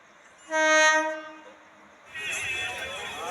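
A single sustained express train horn blast sounds near the start as the journey begins, then the rumbling noise of the train moving along the tracks takes over.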